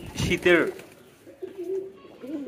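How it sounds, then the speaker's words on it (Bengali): Pigeons on a pigeon farm on a cold winter morning give soft, low coos and brief calls just after release, close by, with a short burst of rustling near the start. "তো আজকে ভিডিও কবুতরগুলো ছেড়ে দিলাম মাত্র"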